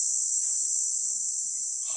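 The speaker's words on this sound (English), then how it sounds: "the cicadas kind of drown out the humans, at least for that little while there." A steady, loud insect drone from cicadas in an outdoor field recording fills the whole stretch without a break, with faint low sounds beneath it and no voices.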